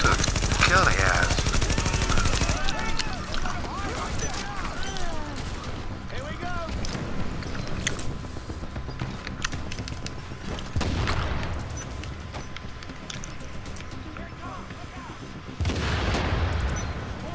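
Rapid automatic gunfire bursts and booming shots from the video game Tom Clancy's The Division, loud and dense throughout with brief lulls, layered with game effects and some voice in the mix.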